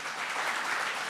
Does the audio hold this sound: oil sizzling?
no